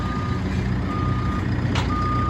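A hooklift truck reverses while dragging a heavy load, its steady reversing beeper sounding repeatedly over a loud, continuous diesel engine rumble nearby.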